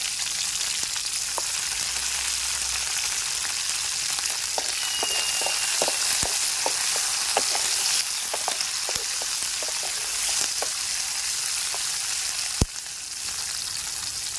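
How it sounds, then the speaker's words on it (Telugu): Green chillies frying in hot oil for gongura chutney give a steady, close sizzle that runs throughout, dotted with small pops and crackles and one sharp clack near the end, with no voices. "కొన్ని పచ్చిమిర్చి నూనెలో ఫ్రై చేసుకోవాలి."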